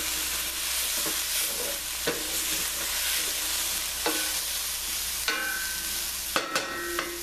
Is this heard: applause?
no